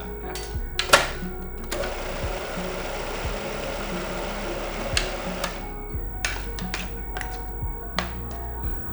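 A kitchen blender whirs steadily as it purees a white bean dip, its motor drone constant and close, broken by a few sharp clicks and taps.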